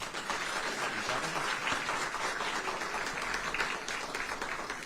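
An audience at an affordable housing bill signing applauds steadily to welcome the Speaker of the General Assembly, a continuous, even patter of many hands clapping at a fairly low level.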